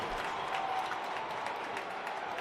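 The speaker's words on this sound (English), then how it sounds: "And the crowd is loving it." Basketball crowd at an Atlantic 10 tournament game cheering and applauding after a Duquesne three-pointer, a steady dense roar of clapping and voices filling the arena throughout.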